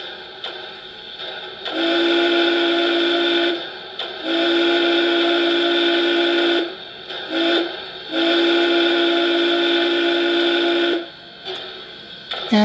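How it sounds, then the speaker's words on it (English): A loud, low steamboat-style whistle from a model locomotive sound system plays through a bass speaker in long sustained blasts, with a short toot between the second and third, clear and close with brief pauses. "And now for that steamboat whistle with the high bass speaker."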